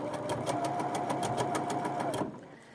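A Bernina sewing machine stitches a blind hem, its rapid, even needle chatter running steadily for a couple of seconds up close before stopping abruptly.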